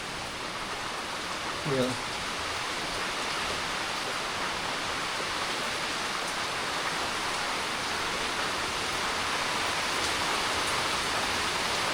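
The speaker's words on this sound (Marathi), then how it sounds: "पाऊस येतो तो ठीक आहे, पावसासोबत ना वारा पण येतो" Constant hiss of steady rain with wind in the Konkan forest during monsoon, fairly loud and even throughout, with a brief voice near the start.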